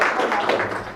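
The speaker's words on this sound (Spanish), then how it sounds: "démosle un fuerte aplauso a la doctora Iris." An audience at a book presentation bursts into applause, a brief steady wash of clapping that stays fairly loud throughout.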